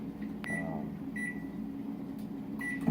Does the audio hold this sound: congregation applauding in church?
no